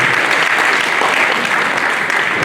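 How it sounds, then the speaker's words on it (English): Conference audience applauding, a close, loud, continuous wash of many hands clapping throughout the brief stretch. "A round of applause for her, please."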